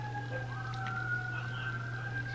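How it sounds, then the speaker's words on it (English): A siren wails outside, its faint rising-and-falling tone carrying in from a distance over a constant low electrical hum in a quiet indoor room. "Sorry, there's a siren behind me."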